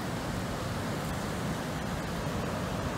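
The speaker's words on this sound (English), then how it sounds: "Here are the falls right here." A waterfall on the Androscoggin River with plenty of water going over, a steady broadband roar that never varies in level across the whole stretch.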